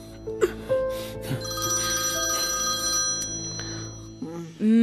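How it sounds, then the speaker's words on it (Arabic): A telephone rings indoors in a domestic comedy scene, its bright electronic ringtone tones sustained across the moment, fairly loud and clear, with a brief voice near the end. "مين على التليفون؟"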